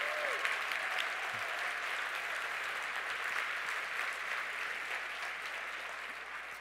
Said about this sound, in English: please stand up and receive your applause and recognition